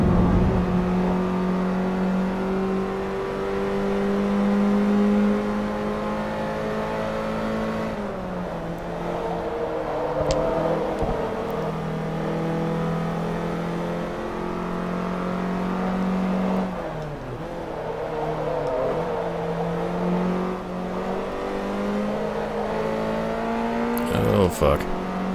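A race car engine in Forza Motorsport 3 drones and revs steadily for a long stretch, pitch rising and dipping as it shifts, with a voice talking over it.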